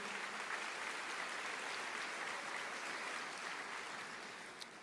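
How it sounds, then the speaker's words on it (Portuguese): A church congregation applauds, a dense, sustained wash of clapping from many hands that stays fairly even before tapering slightly at the end, with no talk. "aplauda ao Senhor"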